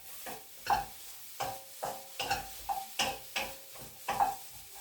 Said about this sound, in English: just make sure you just toss the vegetables around on your pan